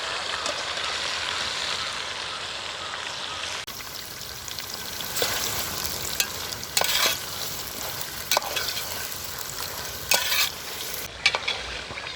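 Chicken stirred and frying in a pan for a grapes chicken fry, with steady sizzling throughout and intermittent scraping stir strokes; no talking.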